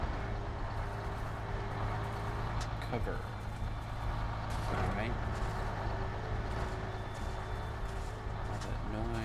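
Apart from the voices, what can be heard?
truck starting to move in Spider-Man video game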